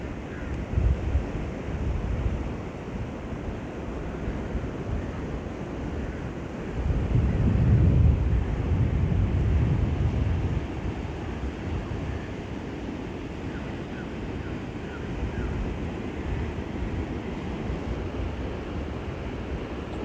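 Strong sea wind buffets the microphone at Juhu beach near the Mumbai airport, with surf beneath and a low airplane rumble swelling for a few seconds midway before fading back into the gusts; no talking.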